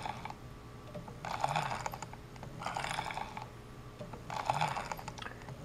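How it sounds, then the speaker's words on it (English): Multimeter rotary switch knob being turned on a life-test rig, with a slight grind: three evenly spaced bursts of clicking, grinding mechanical detents, each about a second long, separated by quieter motor hum. "Here the knob has a slight grind to it."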